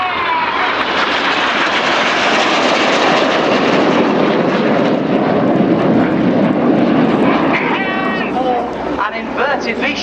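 Loud, continuous roar of Red Arrows jets making a close display pass at the Yeovilton air show, a sustained engine rush that swells and fades, with a commentator speaking over it throughout.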